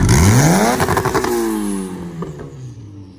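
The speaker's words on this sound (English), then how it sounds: "You know who's rolling up? Mr. Rudnick right there, Racer Miata" A Mazda Miata race car with a full straight-pipe exhaust and blast pipes rolls up close and loud, engine revving and rising in pitch, then easing off into a fading idle, with no talking.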